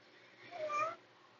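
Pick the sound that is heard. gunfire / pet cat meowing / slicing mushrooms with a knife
pet cat meowing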